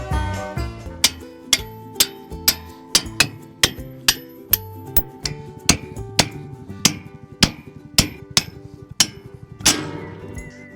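A hammer strikes stakes while a sheep pen is set up outdoors: about eighteen sharp, loud, evenly spaced blows roughly every half second, each with a bright metallic ring, and no talking.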